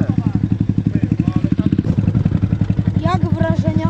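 Yamaha YZF 125 motorcycle engine revving close by, a steady pulsing drone that climbs in pitch, with people talking over it.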